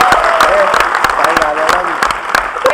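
Audience applause at a panel discussion event, a dense burst of many hands clapping that fills the whole moment, loud and sustained, with a speaker's amplified voice carrying over it.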